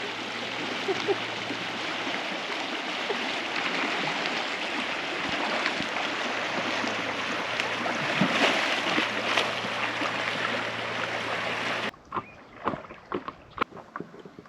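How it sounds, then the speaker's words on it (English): River rapids roar in a constant, loud rush of whitewater while rafting in Colorado, then the sound cuts to quieter, intermittent splashes near the end. "it looks like we have some pretty intense rapids coming up"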